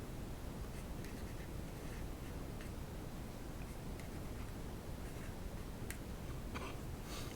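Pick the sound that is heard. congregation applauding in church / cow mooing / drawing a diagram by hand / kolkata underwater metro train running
drawing a diagram by hand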